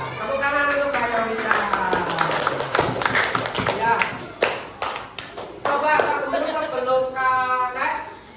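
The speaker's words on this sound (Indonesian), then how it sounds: "Tepuk tangan untuk Mbak Yonisa" Applause for Mbak Yonisa during an Indonesian training session: a few scattered claps and taps from a small group, mixed in with continuous speaking voices.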